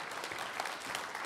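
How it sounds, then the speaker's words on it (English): A church congregation applauds during a Christmas service, a soft, distant wash of steady clapping lasting barely over a second with no distinct individual claps. "Give him a round of applause"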